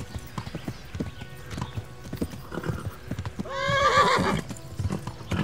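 A horse clip-clops at a gallop in the medieval game Kingdom Come: Deliverance, steady hoofbeats under faint game noise, with a loud whinny partway through.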